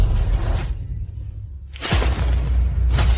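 A cup smashes with a sharp, loud shattering crash, followed by a short near-silent gap and then a second burst of breaking and clattering fragments.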